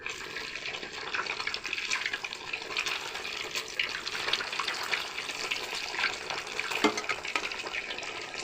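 Milk fritters (doodh bhaja) frying in a pan give off a steady, dense sizzle that runs evenly throughout with no voices.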